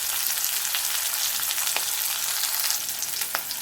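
Sliced onions frying in a pan, a steady crackling sizzle with a few sharper pops, close up and alone.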